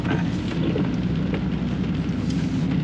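Rain falls steadily, making a continuous, fairly loud broadband wash of hiss and patter with no clear breaks and a low background rumble underneath.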